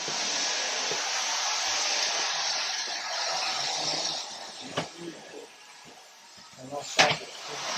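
A central vacuum cleaner system runs with a steady, broad whooshing hiss that fades after a few seconds, followed by a few light knocks and handling noises nearby.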